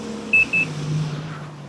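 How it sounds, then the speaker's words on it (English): Two short electronic beeps in quick succession over a low engine hum, from the cruise control of a Yamaha JetBlaster Pro jet ski. "just bump it down. You'll hear it beep."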